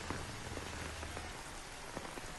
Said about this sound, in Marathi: शहर आणि उपनगरात पहाटेपासूनच मुसळधार पावसाच्या सरी कोसळत आहेत